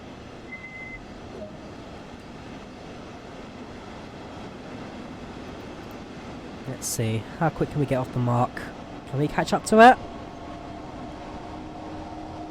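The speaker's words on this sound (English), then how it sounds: "Come on, train. Come on, 422." A DB class 422 electric train pulls away on the Rhein-Ruhr main line between Duisburg and Bochum in Train Sim World, with a low steady rumble and hum under someone talking, then rising whine tones as it accelerates.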